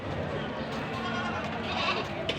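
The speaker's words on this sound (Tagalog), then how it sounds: "Mga bisirong kambing" Young goats bleat in a noisy pen, their cries mixing with steady background clamor and people talking nearby.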